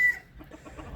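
Silkie chickens clucking, with one brief sharp call at the start followed by soft, low, irregular clucks close by, faint and alone without talk.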